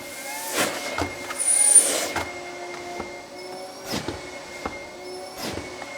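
A homemade blast gate on a dust extraction pipe clunks shut with several short knocks and clicks over a steady whining airflow hum from the running extractor, with no voice.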